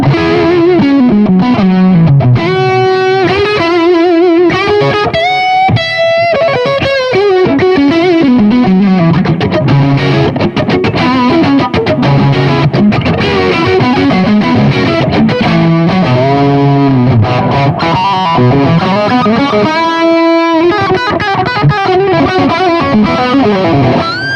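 Electric guitar played through an EL34 amp on its tight-gain channel, loud and heavily distorted, with sustained notes, bends and quick melodic runs ringing out continuously with no talking.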